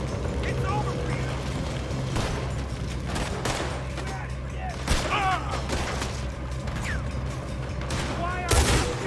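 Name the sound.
gunfire in Red Dead Redemption 2 video game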